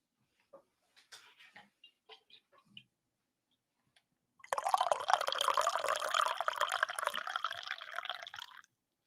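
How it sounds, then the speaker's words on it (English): Liquid, likely beer, is poured into a glass in a steady stream of roughly four seconds, preceded by a few scattered clicks and handling sounds, with no one talking. "Sorry, it was kind of a weak pour."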